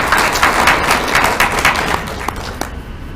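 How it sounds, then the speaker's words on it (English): Audience applause at an education machinima festival awards session, a steady patter of many hands clapping in a room that thins out and fades toward the end. "So we'll give both those a round of applause."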